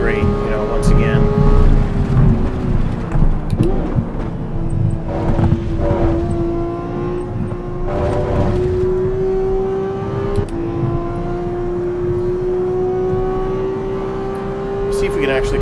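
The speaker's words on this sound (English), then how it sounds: "And the car sounds just great" Race car engine lapping the Nürburgring in Assetto Corsa EVO, a sustained rising drone that climbs steadily through the gears with brief shift dips, loud and close, while someone talks over it throughout.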